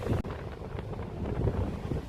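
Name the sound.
strong sea wind blowing into the microphone at the beach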